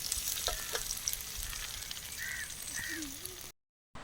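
Curry leaves and onions sizzle in a pan over an outdoor cooking fire in the forest, with a dense, close frying hiss and a few stirring scrapes, ending in a brief dropout.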